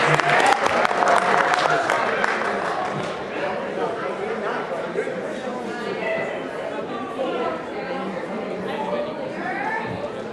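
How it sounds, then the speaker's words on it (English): Audience at a 2019 high school awards ceremony gives a round of applause that starts strong and gradually thins, with voices chattering and a person talking over the fading clapping. "Let's give it one more round of applause to Charlestown"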